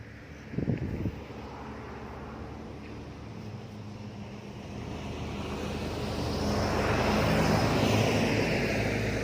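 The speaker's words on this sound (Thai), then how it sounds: "เพื่อน ๆ จะมีเสียงรถเขามาเนาะจ้" A vehicle passes on a road beside a vineyard in Germany, starting with a short thump and then building into a low, swelling engine and tyre rumble that peaks loudly near the end.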